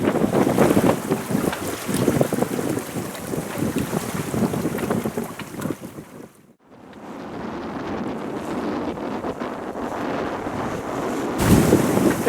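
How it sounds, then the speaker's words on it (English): Wind rushes and water splashes steadily around a sailboat as the breeze strengthens off Zakynthos, loud buffeting noise, briefly dropping out before resuming. "The wind picked up nicely and we are now heading for Kylinis."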